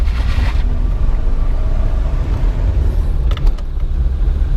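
A 1979 Volvo 242 with a four-speed overdrive gearbox driving along, a steady low engine and road rumble heard from inside the cabin, with a brief clattering rattle near the end.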